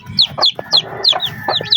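A mixed group of Rhode Island Red and Texas chickens, likely chicks, chirps steadily, with six or more high calls close together, loud and near, over a low background hum.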